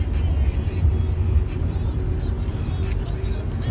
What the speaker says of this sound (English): Houston traffic.